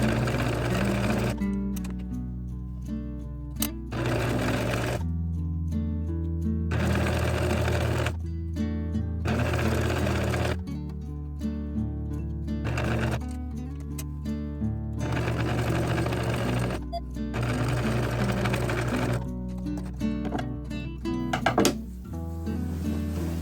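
A sewing machine runs in repeated bursts of rapid mechanical stitching, stopping and starting several times, close and steady.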